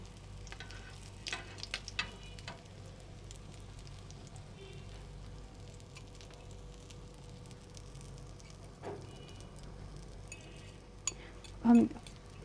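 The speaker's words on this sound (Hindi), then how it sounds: "बिल्कुल तेज़ गर्म घी में बिल्कुल लो फ्लेम पे हम इसको पकाएंगे।" Shami kababs frying in hot ghee over a low flame give a steady, soft sizzle throughout, quiet and close, with a few faint clinks and stirring touches, including a brief louder knock near the end.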